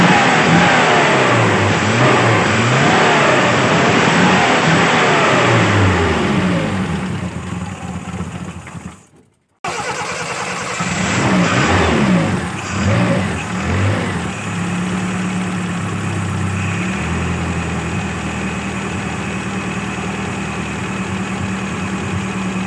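A Daihatsu Zebra engine revs loudly and repeatedly up close during carburetor tuning, dies briefly into silence, then restarts and settles into a rough, steady idle with occasional throttle blips.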